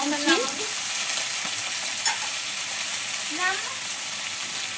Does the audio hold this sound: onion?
yes